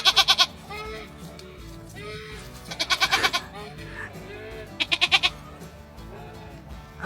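Goats bleat in short bursts of stacked wavering cries, three separate bouts, over quiet background murmuring with occasional voices.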